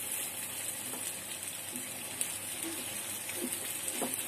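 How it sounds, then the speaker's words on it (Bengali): Mustard hilsa fish curry sautéing in a pan gives a soft, continuous sizzle, with occasional light clinks and scrapes as it is stirred, fairly faint and without talk. "ভালো করে কষিয়ে নিচ্ছি"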